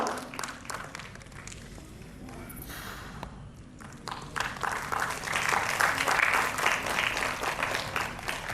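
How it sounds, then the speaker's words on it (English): An audience at an award ceremony applauds in a steady wash of clapping that grows fuller and louder in the second half, with some crowd murmur mixed in. "Applause for him."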